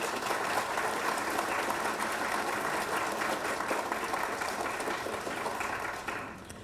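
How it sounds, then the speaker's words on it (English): A round of audience applause at the ICCI Sigma Beta Delta awards ceremony in Grand Cayman, sustained dense clapping from a large room that carries steadily before tapering off at the very end. "Let's give them all another round of applause."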